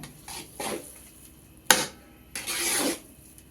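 Motichoor laddu mixture stirred in a hot pan, a series of rough scraping strokes of a spoon against the metal, with one sharp knock in the middle and a longer drawn-out scrape near the end; no speech.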